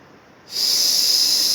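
Forceful breathing during an abdominal exercise, starting after a brief quiet moment as a steady, loud, hissing exhale that holds for over a second, close and alone.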